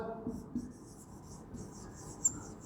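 A teacher writing on a board during a classroom lesson, faint scratchy strokes in short bursts, close and quiet, with no voice over them.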